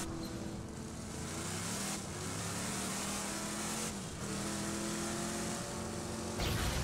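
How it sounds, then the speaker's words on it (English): A vehicle in Borderlands 2 drives along with a steady, loud engine drone and tyre rumble, holding a continuous roar with slight shifts in pitch as it keeps moving. "Let's go ahead and get in our rainbow vehicle."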